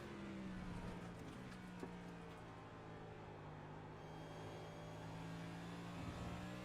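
Race car engine in the iRacing video game, a faint, continuous droning note that dips and climbs slightly as the throttle is worked, heard alone without talk.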